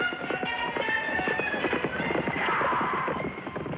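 Wild horses gallop in a film scene of a horse capture, a dense, continuous drumming of hooves with a broad rushing roar and no clear speech.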